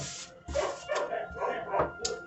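Dogs bark repeatedly in short bursts in the background, mixed with yips and whimpers, fairly faint and irregular.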